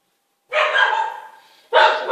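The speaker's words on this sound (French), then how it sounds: "C'était mon chien, excusez-moi." A dog barks twice, close and loud, with a longer first bark that trails off and a sharp second one, heard alone against silence.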